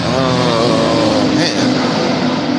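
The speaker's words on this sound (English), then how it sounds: "That giant truck making all that noise." A giant truck's engine roars loudly and close by, a deep rumbling drone with a rising, revving pitch that swells and then settles.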